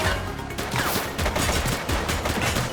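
Sustained gunfire from the police video game The Precinct, a dense, loud volley of rapid shots running nonstop through the whole moment.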